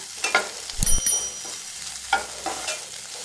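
Snake gourd fries dry on a low flame with garlic in a pan, a soft continuous sizzle broken by several sharp clanks and scrapes of a stirring spoon.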